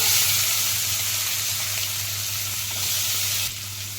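Sliced onions sizzle steadily in hot oil with asafoetida, dried red chilli, green chillies and curry leaves for a bitter gourd pulusu, a continuous close frying hiss with no voices.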